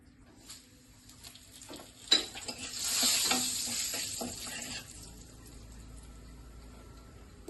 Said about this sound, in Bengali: তার আগে আমি এই ফোড়নটা দিয়ে দেবো।